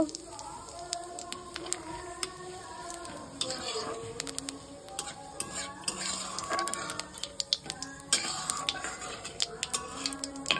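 Cumin seeds and bay leaves drop into hot oil in a home kitchen pan for biryani, faint frying under clinking utensils and scattered spoon-on-pot taps while someone talks.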